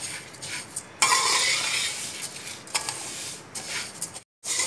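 Vermicelli roasting in a pan while being stirred, giving repeated close scraping and rustling with light metallic clinks and a soft sizzle underneath, no voices.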